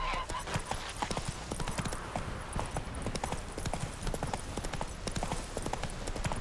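Steady horse hooves clip-clopping in The Witcher 3 video game, a fast, regular trot that stays loud and close throughout the whole stretch without a break.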